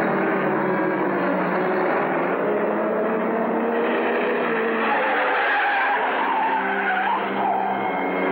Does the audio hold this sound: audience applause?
no